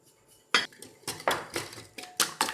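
Eggs with salt, white pepper and black pepper being beaten in a bowl, a series of sharp clinking strokes of utensil against the bowl in an uneven rhythm, close and alone.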